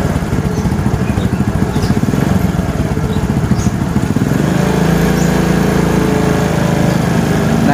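Honda Supra X 100 motorcycle engine running with the throttle slightly opened, a steady, close, loud single-cylinder drone that rises a little in pitch partway through and holds there.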